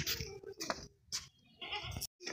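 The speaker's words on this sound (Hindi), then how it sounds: "ये मोटी बकरी है और ताकतवर बड़ी बकरी है" A large, strong goat bleats several times up close, with short broken cries separated by brief pauses, and faint voices can be heard in the background.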